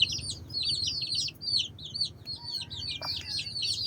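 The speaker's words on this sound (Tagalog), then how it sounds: "Ito naman yung isang inahin natin, pure Huluano." A pure Huluano hen clucks in low, repeated bursts while small birds chirp and twitter brightly over it, fairly close and continuous.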